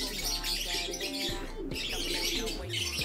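Pigeons in a loft, cooing low and repeated against a busy, chirpy background of other birds, with a few soft rising calls; steady and fairly close throughout.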